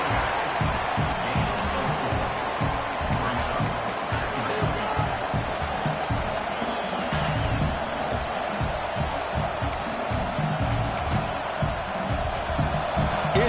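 Dense, steady stadium crowd roar at a college football video game, a loud wall of cheering and noise throughout.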